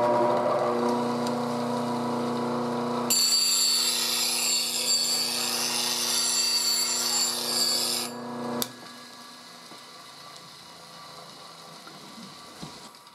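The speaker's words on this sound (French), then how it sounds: "On retourne à la meule." A profiling gouge for woodturning is sharpened on a bench grinding wheel, with a loud, steady motor whine and a harsher rasping hiss while the steel touches the wheel, then the grinder winds down to near quiet.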